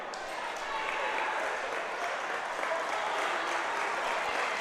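Home cheering section at a boys' high school basketball game giving a big ovation, loud continuous applause and crowd noise filling the whole stretch, with an announcer's voice faintly mixed in.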